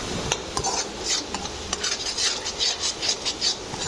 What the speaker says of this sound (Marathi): ढवळा ढवळा. चांगला ढवळून द्या.